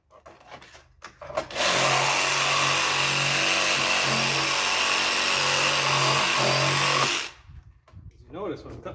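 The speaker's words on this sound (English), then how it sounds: "when I'm cutting this plastic off here" A power tool cuts plastic off an old Craftsman tractor, a loud, steady buzzing whine that holds for several seconds before stopping, with some talk before and after.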